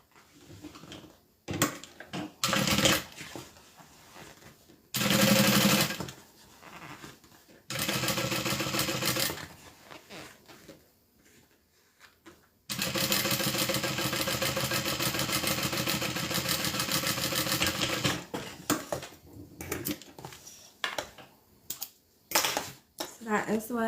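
A sewing machine top stitches a quilted bag, running in uneven bursts of rapid mechanical whirring, including one long sustained stretch, broken by quieter gaps with clicks and handling sounds.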